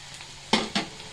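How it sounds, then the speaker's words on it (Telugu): Onion frying in a pan for a chicken curry: a soft sizzle with two sharp scraping stir strokes close up, one after the other, and no voices. "చూడండి, ఇప్పుడు ఆనియన్ ఫ్రై అయిపోయింది."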